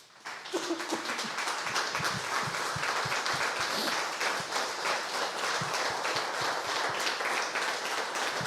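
Church congregation applauding together at a worship service, a steady dense wash of many hands clapping that holds at even loudness throughout, with a few sharper individual claps standing out near the front.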